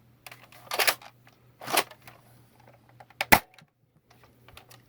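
A Nerf Double Dealer blaster fires, giving a few sharp, close, dry bursts with short bits of mechanical clatter in between. The bursts are loud and come with no voices.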